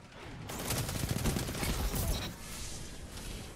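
Rapid automatic gunfire from the Subjunctive SMG in Destiny 2 PvP, a dense, loud burst of shots lasting about two seconds, then fainter game noise.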